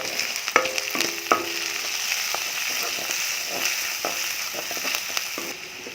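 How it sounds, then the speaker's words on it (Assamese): Spice paste of coriander powder, turmeric and ground black pepper fries in oil over medium heat, giving a steady close sizzle with sharp clicks and scrapes from stirring. "মধ্যমীয়া জুইত তেলটো বিৰিঙালৈকে ভাজি ল'ম।"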